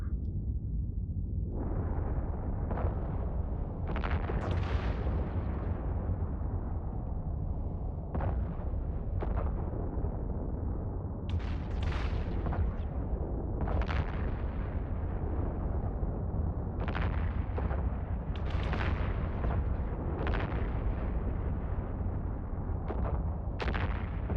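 Missile launcher volleys in the Eve Online space game boom repeatedly over a dense, constant low rumble, with sharp launch bursts clustered irregularly across the span.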